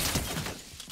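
Rapid burst of gunfire in a trio-squad shooter game, loud and dense with crackling impacts over a single second before tapering off.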